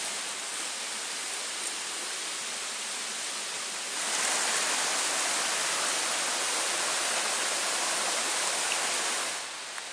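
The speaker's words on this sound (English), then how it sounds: "Another nice little waterfall." Chapel Falls at Pictured Rocks, Michigan, roars steadily on a windy, rainy fall day, with the rushing water swelling noticeably louder through the middle of the stretch before easing back.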